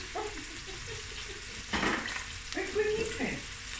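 Chopped onion fries in butter and oil, a steady sizzle broken by a louder spitting burst, with stirring and faint kitchen clatter and a little background noise.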